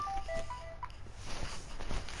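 A telephone is dialed in the game Fallout 4, with a quick run of short electronic keypad tones at the start that then falls away into low room noise.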